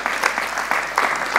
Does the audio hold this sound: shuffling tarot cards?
no